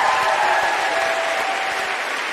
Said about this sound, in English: Can we give ourselves a round of applause for that?